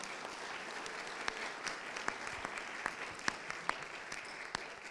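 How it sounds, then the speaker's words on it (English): Audience members at a candidates' forum give a modest round of applause, with individual sharp claps standing out against steady clapping at moderate distance. "A final round of applause for them."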